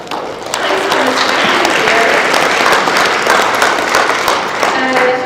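A crowd at a language-learning performance event breaks into loud, sustained applause, with dense clapping that starts after a brief moment and continues steadily to the end.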